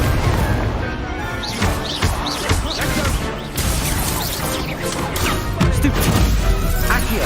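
Incendio fire spell cast again and again during a Harry Potter video game battle, bursts of fiery whooshes and crashing impacts under busy game music and effects, loud and close throughout.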